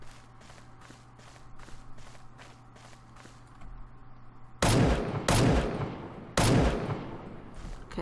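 Gunfire in the GameGuru video game, heard as a few loud, sharp gunshot blasts after a stretch of soft, steady footsteps, the shots ringing out close with a brief decay.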